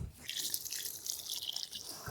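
Water pours steadily from a can or hose onto soil around a newly planted tree, a soft, continuous splashing trickle heard close and fairly quietly.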